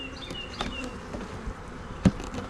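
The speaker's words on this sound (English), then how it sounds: "Too many bees." Honey bees buzz in a steady, fairly quiet drone around an open hive lid, with a few soft knocks and one sharper thump near the end.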